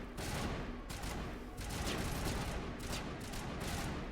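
Gunfire in the video game Mass Effect Legendary Edition: dense, rapid bursts of shots crackle continuously and loudly throughout, with no talking over them.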